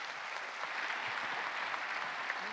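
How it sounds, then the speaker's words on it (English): A conference audience at a blockchain week event in Paris applauds, a dense, even patter of clapping from a crowd lasting a couple of seconds, fairly soft and with no voices on top. "Let's give them a huge round of applause."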